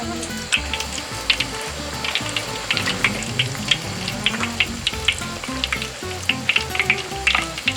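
Chicken deep-fries in a pan of oil until crisp, a loud, continuous bubbling sizzle with a regular series of crackling bursts and spitting pops, heard close up with no talking.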